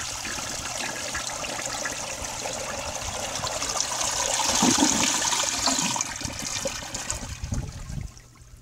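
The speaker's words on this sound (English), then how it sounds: "Here is your flush." A 1973 Eaton's toilet flushes in one steady rush of water lasting several seconds. It swells toward the middle, then trickles and tapers off near the end.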